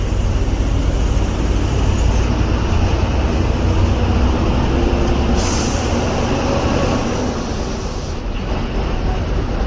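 A train runs near Idar railway station with a loud, steady rumble and rattle of wagons, continuous broadband noise with a few brief squeals, no voices.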